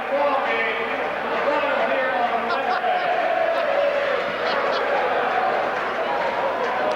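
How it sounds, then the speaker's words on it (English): A basketball crowd on its feet cheers at a 1985-86 District 18 semifinal, Waynesburg vs St Vincent, in a recreation center gym; a steady, dense roar of voices fills the whole stretch without letup. "The crowd is on its feet."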